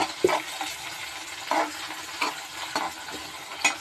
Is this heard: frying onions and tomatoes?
yes